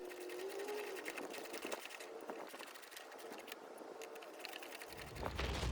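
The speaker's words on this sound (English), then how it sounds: "to tighten this bolt up, I like to use a 10 mil ratcheting wrench" A 10 mm ratcheting wrench tightens a bolt on a Chevy Equinox rear parking brake cable while pliers hold the other end. It makes faint, rapid mechanical clicking in quick uneven runs, with no one talking.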